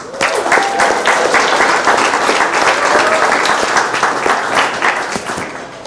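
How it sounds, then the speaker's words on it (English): A large audience of business owners in Philadelphia applauds themselves, loud sustained clapping with a few whoops, tapering off slightly at the close. "Give yourselves a round of applause."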